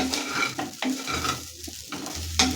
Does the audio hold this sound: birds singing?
no